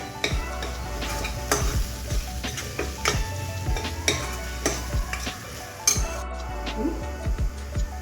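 A spoon stirs and scrapes cumin powder through a pan of sizzling moong bean curry, with a low frying hiss beneath repeated metallic clinks and scrapes at an uneven pace, close up.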